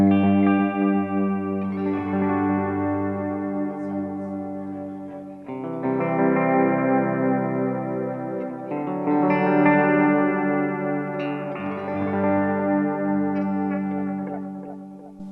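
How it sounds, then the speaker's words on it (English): Guitar chords run through an Xvive V21 Echoman analog delay pedal with knobs at noon, each strum trailing into warm repeating echoes that smear into a reverb-like wash across several phrases, with no talk. "And here's the delay."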